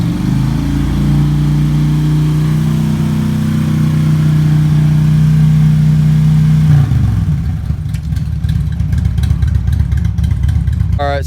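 The engine of a 1979 Triumph 750 Bonneville motorcycle runs loud and close at a steady rumble, then its note shifts into rougher, busier revving.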